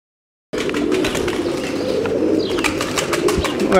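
Pigeons coo in low, throaty bursts over a busy, continuous background of birds, with occasional brighter chirps and rustling; fairly close and steady.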